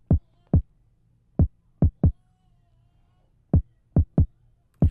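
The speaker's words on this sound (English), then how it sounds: "we'll go ahead and play the kick drum right here" Unprocessed kick drum with no transient shaping, dry punchy low thumps hit in an irregular pattern, eight or nine strikes alone over near silence.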